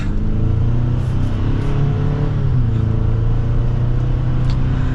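A 2023 GMC Sierra 1500 Elevation pickup engine hums steadily with a low, continuous drone, rising gently as it accelerates on the road; close and fairly loud, with no talking.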